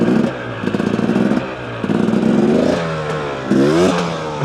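A 2-stroke 300cc motorcycle revs repeatedly during low-speed wheelies, its loud, close engine rising and falling in short throttle bursts with raspy pitch sweeps and some clattering.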